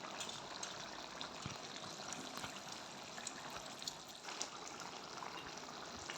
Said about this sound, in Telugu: ఇదిగోండి కర్రీ మంచిగా ఉడుకుతుంది